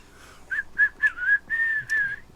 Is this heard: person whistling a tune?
yes